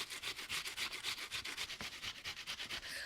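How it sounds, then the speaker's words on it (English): Onion grated on a box shredder, a quick, steady run of close rasping strokes in a regular back-and-forth rhythm. "Use your box shredder to grate your onion."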